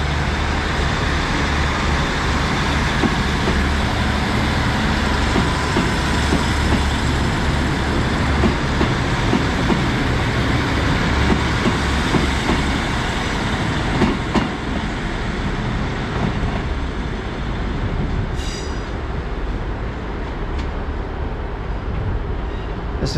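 Trains departing Exeter St Davids station in the UK rumble loudly and continuously with steady engine drone and rail noise, with faint clicks and squeals near the end.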